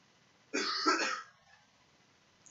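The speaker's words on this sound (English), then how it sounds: "Everybody's coughing." A single person coughs in a classroom during a math lesson, a short, harsh burst of about half a second followed by a faint trailing sound, heard alone without talk.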